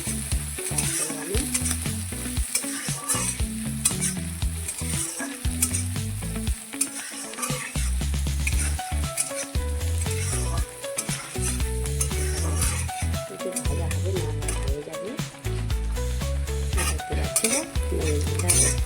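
Onion and green chili frying in oil in a pan for Maggi noodles, a steady loud sizzle with frequent stirring scrapes and clinks of a utensil; a voice speaks briefly.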